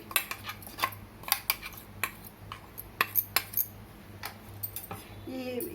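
Spoon clinking and scraping against a bowl while ground lentil powder is stirred into roasted semolina for crispy rava laddu; repeated light metallic taps in an uneven rhythm, close and fairly quiet, with no talking.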